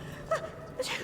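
A character in the video game Dishonored sneezes, a short faint burst with a quick intake before it, set against quiet in-game ambience.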